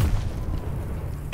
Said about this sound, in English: It was literally just an explosion.